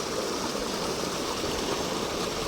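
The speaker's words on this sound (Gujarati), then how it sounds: "અત્યારે પાણી ચાલુ જ છે તમાકુમાં" Irrigation water runs steadily into a tobacco field, a continuous, even rushing and splashing that stays at one level throughout, with no voices.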